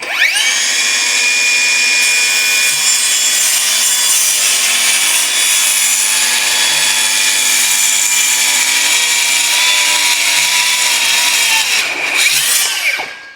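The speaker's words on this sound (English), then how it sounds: "the saw is starting to work a lot harder" A power saw grinds loudly and steadily through wood, its motor labouring and straining throughout, with a brief shift in tone near the end.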